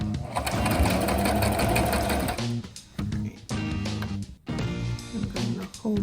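A sewing machine stitches a seam on a faux wrap dress, running steadily close by, then a few short bursts as it goes forward and back-stitches.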